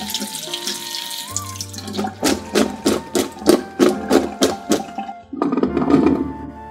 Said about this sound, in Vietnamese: bây giờ mình sẽ đem đi rửa luôn.